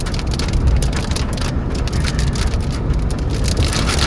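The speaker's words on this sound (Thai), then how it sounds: "ฝนตกแล้วฝนตกแล้วครับ" Steady, heavy rain pours in Bangkok, a dense continuous hiss with traffic rumble underneath, loud and close with no voices.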